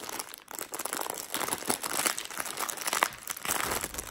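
Plastic packaging around store-bought pancakes is cut and torn open, giving close, loud crinkling and crackling that goes on almost without a break.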